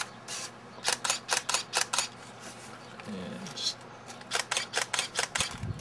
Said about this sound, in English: another demonstration of the shutter release right here